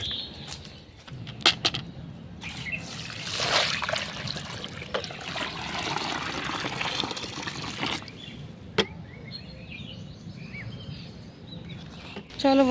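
Water trickling and splashing onto garden plants during watering, a continuous gentle pour with occasional clinks and taps nearby; birds chirp faintly in the background.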